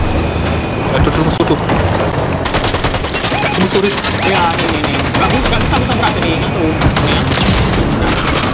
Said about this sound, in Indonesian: Aku tembak. Aku tembak pun enggak mati.